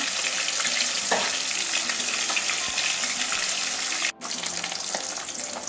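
Catla fish pieces fry in oil with a dense, continuous hiss close up, a few faint taps, and a brief cutoff near the end before the sizzle returns.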